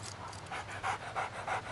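Dog panting close by in quick, rhythmic breathy puffs, about three or four distinct pants rising over a soft background hum.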